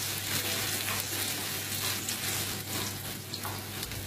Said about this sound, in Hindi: थोड़ा सा ऑयल लेना है सॉस पैन में और साथ ही इसमें प्याज डाल के आपने इसको सौते करना है